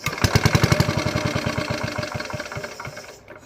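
Old Petter A1 2HP stationary engine running nearby, a loud, rapid, even thudding beat that gradually softens and slows as it winds down.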